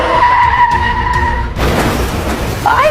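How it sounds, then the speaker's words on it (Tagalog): A car braking hard and skidding, then colliding: a loud sustained tire squeal gives way to a broad crashing burst, followed by scraping and another brief squeal nearby. "Yung sasakyan nagkabanggaan"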